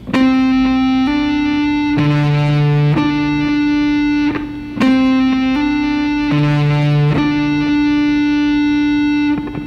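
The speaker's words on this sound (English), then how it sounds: "So that last little chunk sounds like this." An electric guitar with effects plays a short melodic D natural minor lick of sustained notes, repeated twice, loud and clean with no talking.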